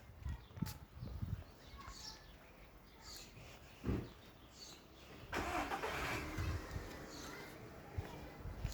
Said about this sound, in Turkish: araba çalıştı.